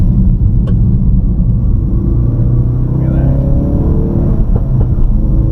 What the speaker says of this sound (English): We got some pops out the exhaust.